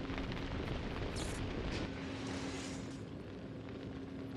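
A huge, sustained explosion roars as a destroyed target blows apart in the mech combat game Armored Core VI, a dense, loud rumble filling the whole stretch without any voices.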